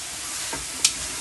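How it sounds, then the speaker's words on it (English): Onions, long red pepper and spring onions stir-fry in a pan, giving a steady close sizzle broken by a single sharp clink of a utensil. "So we stir frying the onions and the long red pepper."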